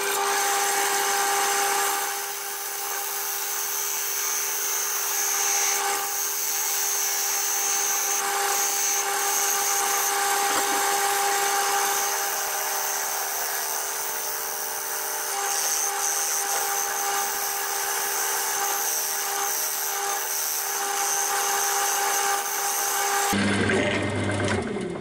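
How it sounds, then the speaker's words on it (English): A wood lathe turns an ash bowl while a tool cuts a small mortise for the chuck, producing a loud, steady high-pitched whine and tool hiss that runs continuously until a brief change near the end. "I'm just turning a little mortise in here for when I can turn it round in the chuck to finish the top off."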